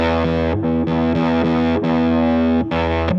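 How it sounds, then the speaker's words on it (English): Electric guitar through a Big Muff Wicker fuzz pedal with the tone switch engaged, thick sustaining distorted notes played in a repeating riff, loud and close. "this is gonna give you more of that classic Big Muff sound"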